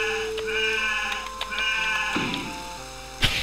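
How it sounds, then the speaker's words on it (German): Sheep in the video game Wolfenhain bleat in a long wavering call, followed by a shorter second bleat and a soft thud near the end, close and clear with no talk. "Ha, Schaf."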